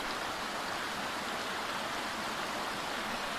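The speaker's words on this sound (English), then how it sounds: "Water's running nicely, all that rain." A creek swollen by recent rain runs with a steady, full rushing hiss, close and constant, with no voices over it.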